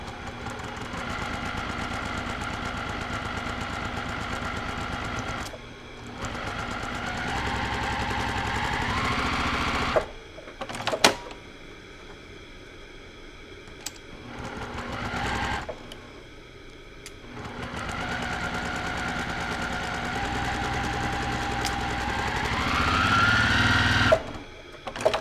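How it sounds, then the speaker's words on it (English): A sewing machine stitches the seams of an Ohio Star quilt block in several runs of steady, rapid mechanical whirring, broken by short pauses and the clicks of the fabric being repositioned. "now we are going to go to the sewing machine, and we're going to stitch directly on those lines."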